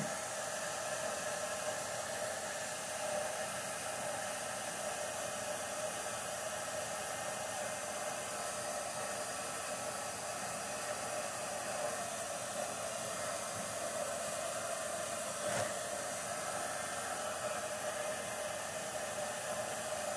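A heat tool blowing on watercolor paper during a papercraft session, a loud, steady, unbroken hiss and whir lasting about twenty seconds, close to the listener, with no talk.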